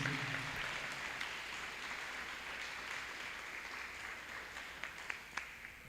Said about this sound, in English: if we can just give them a round of applause to our teachers